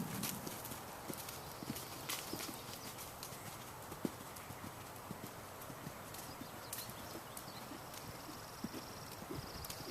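Horse cantering on a large circle during a riding clinic, hooves clip-clopping in a steady rolling rhythm at moderate distance over faint outdoor background noise, with no talk.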